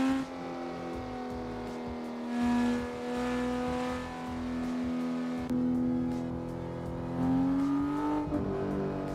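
Porsche 911 GT3 engine in Assetto Corsa on PC, a sustained tonal drone rising and falling as revs shift, with gear changes and swells, steady and without talk.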